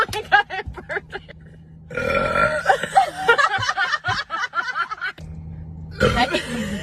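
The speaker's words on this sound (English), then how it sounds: "Oh my god, I burped it." A woman lets out several loud, close burps, some long and drawn out and others short, with bursts of laughter and chuckling in between.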